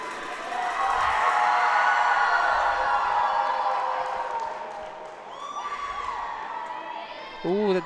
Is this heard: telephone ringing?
no